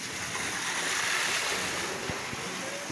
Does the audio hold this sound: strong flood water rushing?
yes